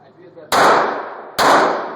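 Two loud, sharp shots from a Smith & Wesson M&P 40 pistol at a gun range, each a close crack with a short echoing decay, about a second apart.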